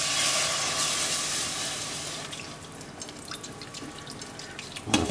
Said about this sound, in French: je vais rajouter le lait. Donc mes 40 centilitres de lait